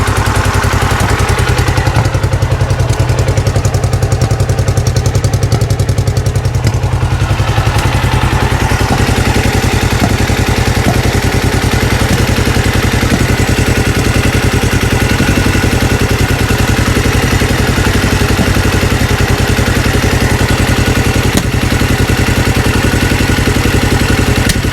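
Black Bomber motorcycle engine, running unevenly with one cylinder weak, fires up easily and settles into a loud, steady, close idle with a rough pulsing beat and light mechanical clatter for over twenty seconds.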